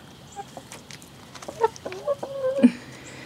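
Chickens cluck softly nearby in a few short, irregular bursts over a quiet background.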